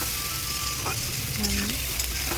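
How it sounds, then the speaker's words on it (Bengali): Potatoes and onions fry and get stirred together in a pan, giving a steady, dense sizzle with scraping stir sounds, fairly close and continuous. "পেঁয়াজও ভাজা হবে, আলু ভাজা হয়ে যাবে। আমি এগুলো একসাথে নাড়াচাড়া করছি।"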